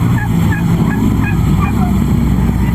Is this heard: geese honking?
yes